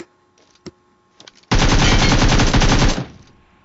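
Rapid automatic gunfire in a mobile shooter, a loud sustained burst of about a second and a half following a few faint taps and clicks, then cutting off abruptly.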